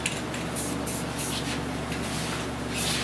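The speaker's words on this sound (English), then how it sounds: "all I'm using is a lacquer. It's a clear, spray can clear" A spray can of clear lacquer coats car AC parts on a 1970 Buick Wildcat: a soft, continuous hiss under a steady background drone, with short airy bursts as the nozzle is pressed and released, close and fairly quiet.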